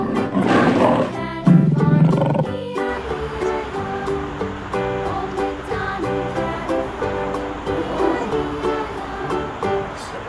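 A lion gives a couple of loud, rough roars at the start, then steady, tinkling children's music carries on alone.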